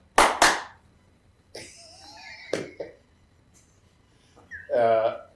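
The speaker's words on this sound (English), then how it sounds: "Clap twice." Two sharp hand claps in a row, loud and close, with bursts of talk and a short laugh in the room around them at a round-table podcast recording.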